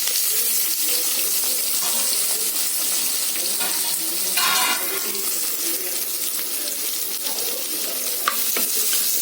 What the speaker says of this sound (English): We'll just saute this for a minute.